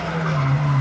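A turbocharged Astra skids at a sprint event in Pittsworth, a steady engine drone with a sustained tire squeal running loud and unbroken under no talk.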